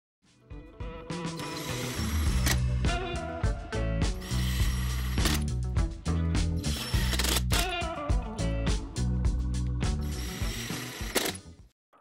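A ratchet clicks rapidly in bursts, driving 2.5mm hex silver screws into an InMotion V11 electric unicycle, close and crisp with brief pauses between runs of dense mechanical ticking.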